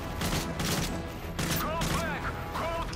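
Rapid bursts of gunfire from shooting enemies in Call of Duty: Modern Warfare 3 on the Turbulence mission, loud and dense, with repeated volleys across the whole stretch and brief higher whines between them.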